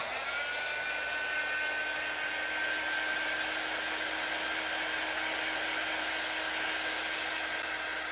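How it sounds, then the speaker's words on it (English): A hair dryer blows steadily over painted clay during a craft session with moulds and stamps, a constant close, even whir with a faint high whine and no talk. "Let's go over it with the dryer a bit."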